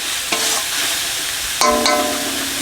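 Spices sizzle steadily in a pan for a fish-head curry as they are stirred, with a couple of clinks from the utensil, close and with no talking.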